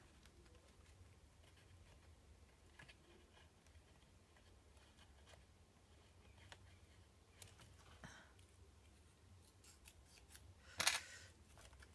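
Scissors snip through paper while making a scrapbook project organiser, a few faint, sparse cuts over a low steady hum, with one sharper, louder snip near the end.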